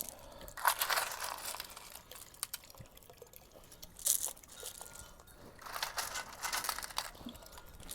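Rocks taken from a driveway are tipped onto the sandy bottom of a small backyard pond, making a few separate gritty, crunching splashes spread over several seconds, with quiet pauses in between.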